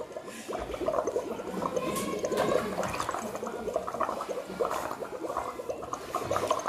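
Breath blown into lime water makes continuous gurgling, bubbling liquid that churns at a steady, fairly loud level throughout, with no talking.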